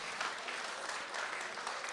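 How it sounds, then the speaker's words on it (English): A small audience at a newlywed game show claps together, brief and fairly faint, a continuous patter of hands lasting about two seconds. "let's give him a round of applause"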